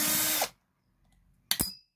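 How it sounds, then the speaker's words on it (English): A DeWalt power drill backs screws out of a split-boom tool during servicing: one loud, close whirring burst, a quiet pause, then a short second spin with a rising whine. "We've got quite a few screws to take out, so get a drill."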